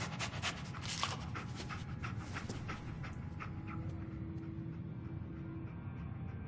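A dog pants steadily and rapidly in the Fallout 4 video game, close and continuous over a constant ambient game hum, with no talk.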